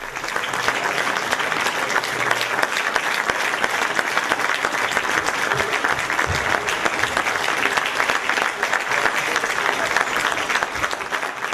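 Audience applause fills a small amateur theatre after young actors perform, a dense, steady clapping from a crowd that stays loud and continuous for about twelve seconds.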